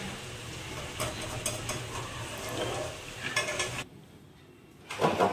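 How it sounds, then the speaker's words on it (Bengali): Cauliflower curry cooks in a pot with turmeric, a steady sizzle and bubble broken by scraping stirs and clinks of a utensil against the metal, then a short lull before more stirring. "ফুলকপির তরকারি ফুটছে।"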